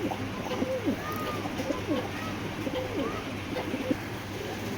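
Giribaz pigeons of a hammer-coloured variety coo in soft, repeated rolling calls against a steady background hum, with no clear talking.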